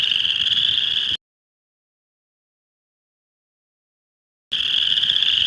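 Boreal chorus frogs (Pseudacris maculata) call loudly and close up in a dense, rapid trilling chorus that is heard at the start, drops into a few seconds of total silence, then resumes at the end.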